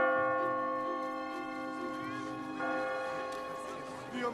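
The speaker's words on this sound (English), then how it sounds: "The bell of San Marco!" The church bell of San Marco rings with a sustained, layered metallic hum and lingering overtones, heard fairly faint and distant as one continuous resonant toll fading slowly.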